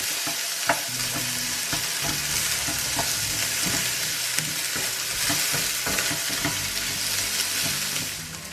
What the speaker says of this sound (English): So now I add the potato, cook a little bit, pre-cook first,